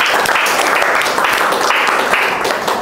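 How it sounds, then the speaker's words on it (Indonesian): An audience at a lecturer training session gives a dense, steady round of applause, loud and close, lasting the whole stretch with little else heard. "Tepuk tangan untuk kita semua."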